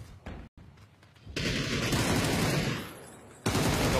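Rapid gunfire in an esports shooter match: a few scattered shots, then a dense, sustained burst of automatic fire lasting about two seconds that tapers off before another loud burst at the end, with no talk.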